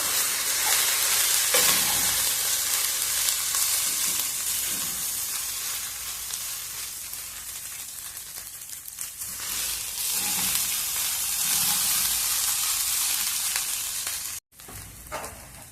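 Rice mixed with gongura leaves in a frying pan, a steady loud sizzle and hiss with scraping stirring strokes throughout, close up and without talk.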